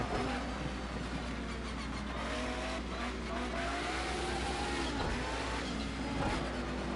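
A Mustang race car engine in the video game Project CARS 2 drones steadily with shifting pitch, revving along under constant road noise and faint tire sounds, no talking.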